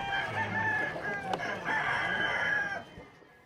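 A rooster crows once, close and fairly loud, its long drawn-out call cutting through faint clucking and a quiet farmyard backdrop at a seized cockfighting ranch in California.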